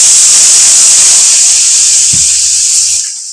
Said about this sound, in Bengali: একটু সামান্য পরিমাণে জল দিয়ে দিচ্ছি,